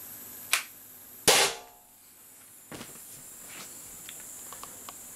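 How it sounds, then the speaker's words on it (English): An Umarex HDR50 carbine air gun running on a CO2 canister that leaks from the bottom, firing Z Ram slugs: two sharp, close cracks a moment apart, then a softer pop followed by faint light ticks. "See if we can pop off some shots anyway."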